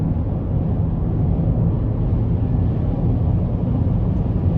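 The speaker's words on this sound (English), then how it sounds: "Give it a little throttle here." A 2017 Buick Enclave with a 6-speed transmission and about 80,000 miles accelerating under throttle, heard from inside the cabin as a loud, steady, continuous engine and road drone with no breaks.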